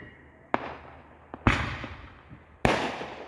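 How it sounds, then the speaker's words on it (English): Fourth of July fireworks bursting outdoors, three sharp loud bangs spaced about a second apart, each followed by a crackling, fading rumble and echo. "there's a lot of fireworks going off right now"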